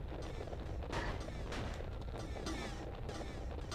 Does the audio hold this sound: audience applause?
no